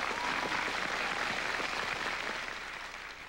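Audience applause welcomes two young singers onto a TV singing contest stage, a dense burst of clapping that holds steady for a few seconds, then fades toward the end.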